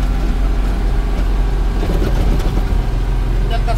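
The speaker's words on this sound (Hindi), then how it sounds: "इंजन का साउंड कितना हो गया।" Indian truck engine held in third gear while descending the Chauparan ghat road into Bihar, a steady loud low drone running continuously throughout, with vehicle rumble close by.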